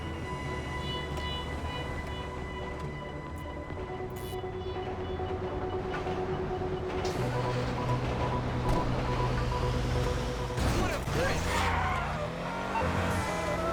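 A steady mechanical train rumble with tonal hums in the video game Grand Theft Auto, rising in intensity, then sweeping whooshes and screeching near the end.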